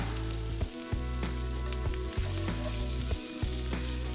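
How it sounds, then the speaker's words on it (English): Steaks sear in a pan with olive oil, butter and garlic, giving a loud, dense sizzle and crackle with a few brief dips and bumps as the meat shifts. "I'm gonna throw some garlic in here, put my steaks in, cook them for 2 to 3 minutes on either side,"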